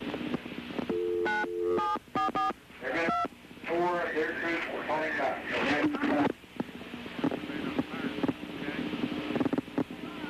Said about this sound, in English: You can hear the 911 tones on the telephone.